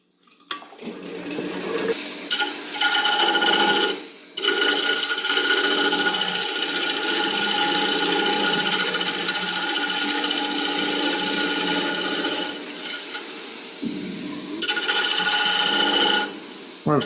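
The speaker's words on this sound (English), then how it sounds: "I'm going to chamfer this edge." A tool cuts a chamfer into the edge of a wooden piece spinning on a lathe, giving a loud, sustained rasping scrape with brief pauses between passes.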